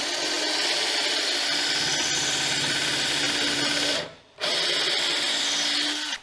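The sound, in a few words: power drill driving a construction screw into wood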